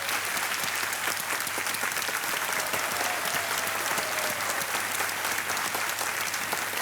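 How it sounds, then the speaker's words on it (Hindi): Studio audience on a Hindi quiz show applauding a contestant's correct answer, a dense, steady wash of many hands clapping at even loudness throughout, with no talk over it. "तालियां बजते रहे इनको."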